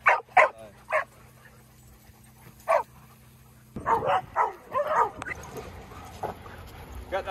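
Small dogs yipping, whimpering and giving short barks in scattered bursts, close by and fairly loud, with voices chattering in the second half.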